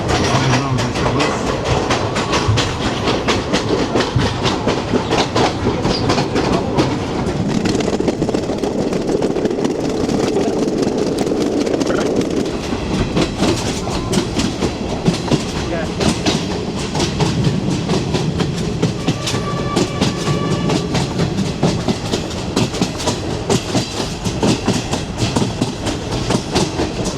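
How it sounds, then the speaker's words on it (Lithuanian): Clickety-clack of a moving train heard from inside a carriage in Sri Lanka near an open door, a steady rumble with rhythmic wheel clatter and rattling running loud throughout with no talk. "Važiuojam su traukiniu, nežinau, kas čia bus."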